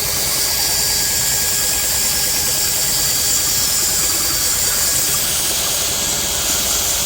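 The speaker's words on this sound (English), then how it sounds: "I am using a drill connected to a pulley on the ceiling" A drill powering a ceiling-mounted pulley hoist in a chicken house gives off a steady, loud motor drone with broadband whirring noise throughout, unbroken and with no talk.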